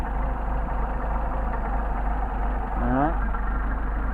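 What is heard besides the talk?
Mercedes 190SL engine idling on Solex carburetors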